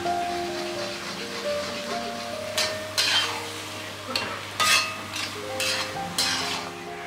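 Fried rice with scrambled egg gets stirred and tossed in a hot pan, making a steady sizzle. Several louder scraping and clattering strokes of the spatula cut through it, close and fairly loud, with a low hum in the background.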